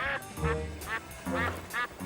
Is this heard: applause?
no